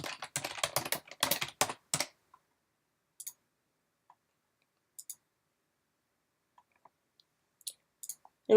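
Fingers type quickly on a computer keyboard, a dense burst of clicky keystrokes for about two seconds followed by sparse, isolated key taps in near silence, close and quiet.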